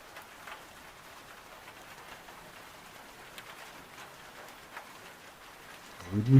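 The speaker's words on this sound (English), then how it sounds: "It's 8 o'clock, still pouring with rain." Steady rain pours down as ambient weather in the zombie survival game Project Zomboid, a continuous soft hiss holding through the scene at an even level, with a louder thump near the end.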